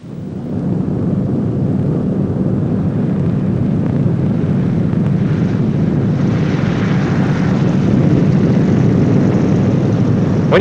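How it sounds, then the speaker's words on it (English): Boeing B-29 bomber on its landing run, tail slightly low at about 95 to 100 mph, with a loud, steady roar of propeller engines and rushing air filling the whole stretch alone, swelling slightly near the end. "When you touch the ground, the plane should be slightly tail low and going between 95 and 100 miles per hour."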